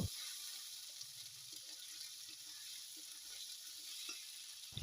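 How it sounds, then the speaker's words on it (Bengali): Dried chili, chopped onion and garlic frying in oil in a home kitchen pan, a faint steady sizzle with a few soft clicks, no voices present. "একটি শুকনা মরিচ দিব, পেঁয়াজ কুচি দিব, রসুন দিব, দিয়ে ভালো করে ভেজে নিব"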